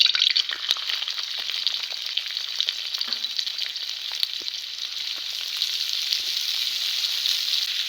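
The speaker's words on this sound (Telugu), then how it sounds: "లైట్గా వేయించుకుందాం సరిపడా ఉల్లిపాయ" Sliced onions fry lightly in oil in a pan for pepper chicken, a steady loud close sizzle that holds throughout with occasional faint stirring scrapes.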